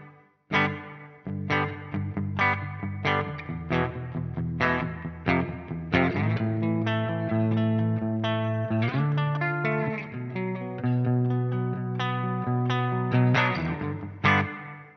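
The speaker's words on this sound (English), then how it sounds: "That's right, it's reverb." Electric guitar played through the reverb of a Hologram Electronics Chroma Console pedal, chords and notes blooming into long, shimmering tails.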